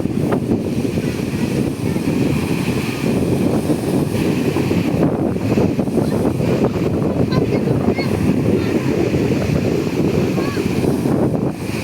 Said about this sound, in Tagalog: Lalaki na ng alon.